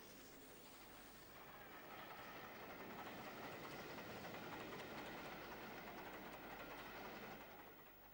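Steam locomotive 4472 pulls an excursion train out of Nottingham, a steady rolling rumble of engine and carriages that swells slightly louder and then eases as it passes.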